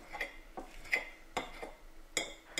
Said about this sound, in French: On écrase à la fourchette les œufs durs.